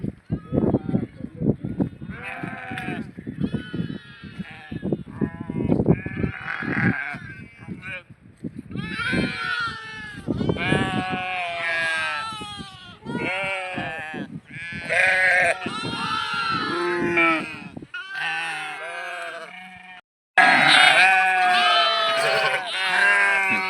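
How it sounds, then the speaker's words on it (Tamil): Goats bleating in a forest camp, repeated wavering cries from several animals, some near and loud, others farther off, overlapping one another through the whole stretch. "அந்த ஆடு நிற்குதே, பெரியப்பா விட்டு ஆடு அங்கே அந்த நிற்குது."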